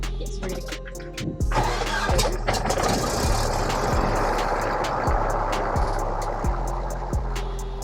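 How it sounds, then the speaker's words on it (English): A Cessna 172 light aircraft engine cranks and catches during a flight lesson, sputtering through rhythmic firing pulses before settling into a steady, loud close-up rumble with no talk. "Once you cut the engine on"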